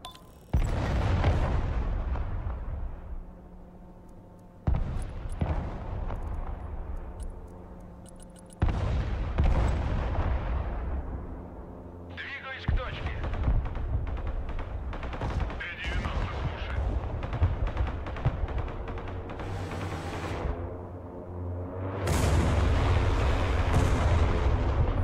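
Booming artillery and gunfire in the video game Broken Arrow: repeated loud blasts with long rumbling decays, some overlapping in heavy bursts, with speech faintly mixed in.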